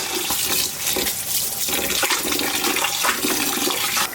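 Water runs and splashes steadily, close and fairly loud, while rice for pulao is washed in a kitchen, a continuous rushing flow with no talk.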